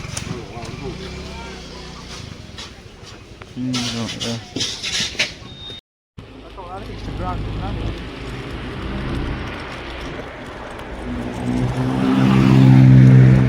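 Riding a vehicle late at night through Chiang Mai city, Thailand: a continuous engine drone and road rumble that swells louder toward the end, with voices talking over it.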